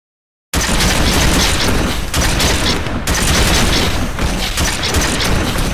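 Sustained covering fire in a battle: dense, continuous bursts of gunfire and booms fill the whole stretch after a brief silent start, loud and close, with no talking.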